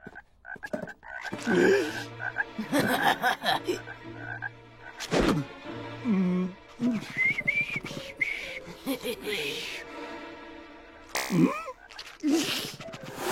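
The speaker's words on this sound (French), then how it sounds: "Jimmy, tu choisis une grenouille pour la dissection" Frogs in a cartoon classroom set up for dissection croak in loud, bubbly bursts and whistle-like chirps, repeated irregularly and up close with no talk in between.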